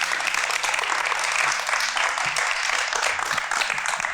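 Studio audience applauds a guest's arrival on a talk show, a steady, dense burst of clapping that holds evenly for several seconds with faint voices underneath.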